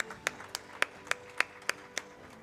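Sparse, evenly spaced hand claps from an audience at an awards ceremony, about eight sharp claps in a steady rhythm, fairly quiet and thin rather than a full ovation, with no talk over them.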